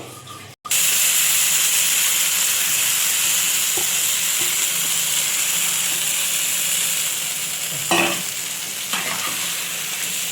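Colocasia stirred in a hot wok, with a steady loud sizzle and hiss throughout and a few soft scraping clinks near the end.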